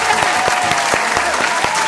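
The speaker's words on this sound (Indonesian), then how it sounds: "tepuk tangan, tepuk tangan" Brief, steady audience applause with distinct claps rising from a continuous crowd clapping, fairly close and even.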